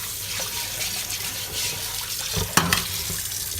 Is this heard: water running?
yes